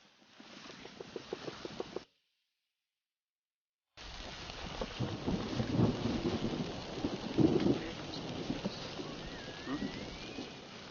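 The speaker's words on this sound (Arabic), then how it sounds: "اسمعون الصوت. رعد ولا برق هذا؟" Thunder rolls over steady rain in Raghadan forest during an outdoor barbecue, a low sustained rumble with rainfall hiss after a brief cut, with people talking nearby at the start.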